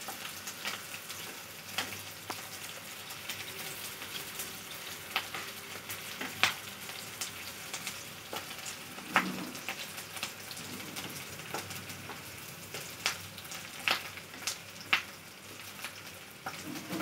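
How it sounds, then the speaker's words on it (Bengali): Onions fry over high heat in a pan and sizzle continuously, with repeated scraping clicks from stirring scattered throughout. "দেখছেন তো আপনারা যে পেঁয়াজগুলো কিরকম করে ভাজছি, নাড়তে থাকছি আমি"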